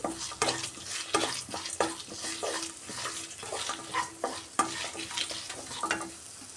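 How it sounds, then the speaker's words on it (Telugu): Coriander seeds, cumin and garlic frying in a kadai for curry leaf powder, a steady sizzle broken by repeated scraping stirs at close range, with no voices. "ధనియాలు జీలకర్ర వెల్లుల్లి వేసుకుని ఒక రెండు నిమిషాలు ఫ్రై చేసుకుందామండి"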